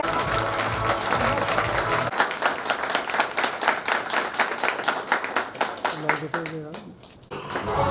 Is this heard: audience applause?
yes